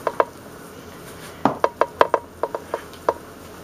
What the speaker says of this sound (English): let me mix this up just a little bit better